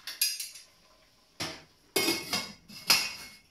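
A saucepan lid clatters onto a pot of apricot and sage stew, giving several sharp metallic clinks and knocks in short bursts with quiet gaps between.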